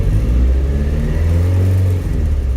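A Ford Escort Mk1 fitted with a YB engine runs freshly rebuilt, its cold engine humming low and steady with a swell in revs partway through before settling back.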